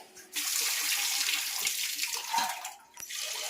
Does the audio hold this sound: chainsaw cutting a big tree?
no